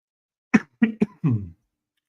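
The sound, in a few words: coughing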